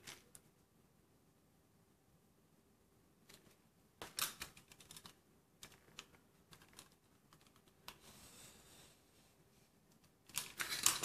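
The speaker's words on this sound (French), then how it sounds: "Et là, pareil, je viens couper." Paper being cut with scissors for a handmade photo album, heard as scattered crisp snips and rustles in short bursts, faint in places and louder near the end.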